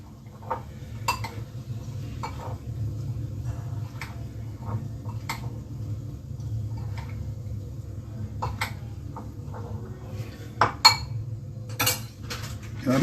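Roasted vegetable chaat being stirred in a pan, with scattered metallic clinks and scrapes of a utensil against the cookware over a steady low background hum, no talking.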